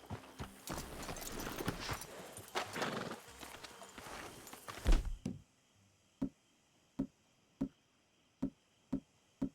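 Horses neigh and stamp among busy sounds in Red Dead Redemption 2, then hooves clop alone in a slow, even rhythm, crisp and close against quiet.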